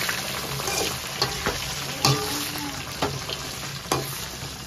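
Brinjal pieces fry in oil while being turned up and down in the pan, a soft continuous sizzle broken by several distinct scraping stirs and clinks spaced about a second apart.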